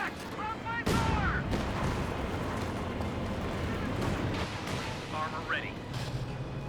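Allied Land Mattress rocket barrage in the Company of Heroes 2 battlefield, a rumbling roll of distant impacts and booms with a heavy burst near the start, under steady talk.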